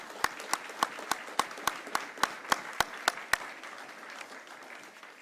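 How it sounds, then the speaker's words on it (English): Applause for the 616 Operations Center at a military change of command ceremony in Texas: a single sharp, rhythmic clapper stands out close by over softer crowd clapping that gradually fades. "please, a round of applause for the 616"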